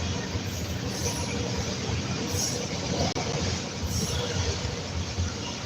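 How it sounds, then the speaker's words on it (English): A train runs past close by with a steady, loud rumble of wheels and carriages that lasts the whole stretch, with no voices over it. "Good timing, stupid train."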